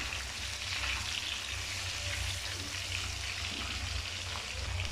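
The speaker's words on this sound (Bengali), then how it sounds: "তেলের মধ্যে আপেল এবং আমটিকে ভালোভাবে মিক্স করে নিচ্ছি" Pieces of apple and mango are stirred in hot oil for a pickle, producing a dense, constant close sizzle with faint stirring over a low steady hum.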